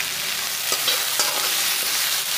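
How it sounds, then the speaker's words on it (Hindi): Finely chopped onion frying on a low flame with cumin and curry leaves for rawa upma, a dense continuous sizzle with a couple of soft spoon knocks against the pan, close and without speech. "प्याज को कम फ्लेम पे भूनेंगे"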